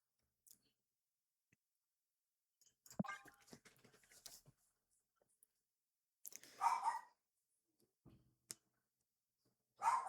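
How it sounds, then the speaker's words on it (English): A pet dog barks in a few separate bursts from somewhere in the room, with sharp clicks and quiet gaps between them, during a Marvel Snap card game session. "my dog was barking then"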